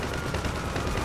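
Gunfire strikes a tank in the video game GTA 5 Online, a dense, loud, continuous burst of rapid shots filling a brief moment with no pause.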